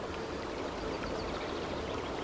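Fast-flowing river water on a fishing trip, a continuous broadband rushing and gurgling that stays steady and moderately loud throughout, with no voices.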